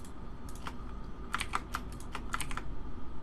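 Keyboard key presses while modeling in Blender: scattered sharp clicks, several in a quick cluster and then a few more spaced apart, close and crisp over a quiet room hum, with no talking.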